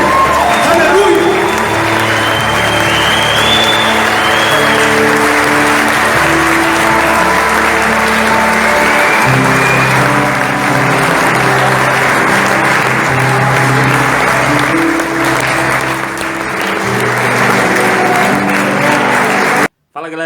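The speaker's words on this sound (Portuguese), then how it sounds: "Aplauda ao Senhor, glorifique o nome dele." A church congregation applauds in praise, with sustained loud clapping from a large crowd that fills the room. Voices and music-like tones sit underneath, and the clapping runs steadily for a long stretch.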